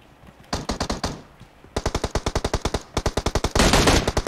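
An automatic gun in PUBG Mobile fires loud, rapid bursts of gunshots, several bursts in quick succession with short pauses, ending in a dense stretch of fire, no voices.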